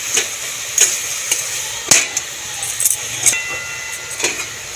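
A spatula stirs ash gourd and prawn curry in a pan, with loud, irregular scraping clacks every second or so over a low steady sizzle.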